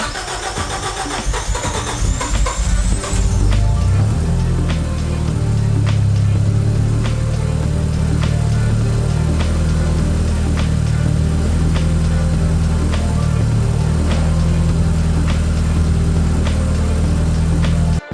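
A car engine cranks and fires after a cold night in a frosty garage without its engine heater, then settles into a steady, loud, close running drone as the car drives off, with faint clicks and knocks along the way.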